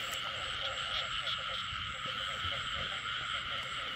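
Frogs croak in a rapid, repetitive chorus during a frog-catching outing in the countryside of Đa Phước commune, heard over a constant high insect-like drone and low background rumble.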